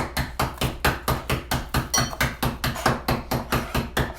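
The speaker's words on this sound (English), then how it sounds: "use the flat side of our hammer and just knock it around a little bit" The flat side of a hammer knocks hard candy into smaller pieces, about twenty sharp, evenly spaced close strikes in a steady rapid rhythm with no talking.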